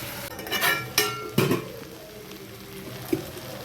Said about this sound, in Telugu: ఇప్పుడు కట్ చేసుకున్న వంకాయ ములక్కాయ ముక్కల్ని వేసుకుందామండి.